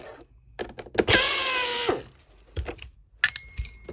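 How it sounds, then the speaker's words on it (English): A powered screwdriver removes screws from a Miele C3 vacuum cleaner during a teardown, with a rising whirring burst of about a second, surrounded by sharp clicks and handling knocks. "now we have 2 more screws to take out, so we'll go ahead and remove those"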